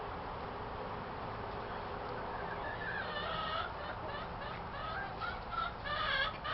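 A flock of molting chickens with a rooster named Sam clucks and calls in a backyard pen on a January day, a low steady murmur with louder, clearer calls breaking through later on.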